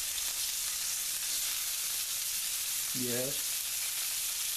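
Farm-raised lamb burgers fry in a pan, giving a steady, close broadband sizzle and spatter throughout, with a brief voice-like tonal blip near the end.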